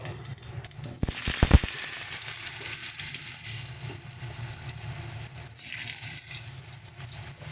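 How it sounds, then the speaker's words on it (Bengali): Potatoes and vegetables frying in hot oil with panch phoron and bay leaf, a steady close sizzle with a few sharp clatters early on as pieces drop in, continuing evenly with no talk. "এবারে আমরা এক এক করে সবজিগুলো ভাজবো তেল গরম হয়ে গেছে দিয়ে দিচ্ছি পাঁচফোড়ন আর তেজপাতা"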